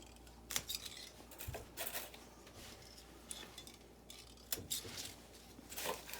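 Pruning snips cut tomato suckers inside an indoor winter greenhouse, giving a handful of quiet, sharp clicks spaced irregularly over a low, hushed background.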